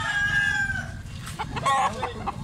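Roosters on display at a market in Carbon, Cebu crow and cluck close by, one drawn-out crow followed by shorter clucks and calls over a busy low murmur of background noise.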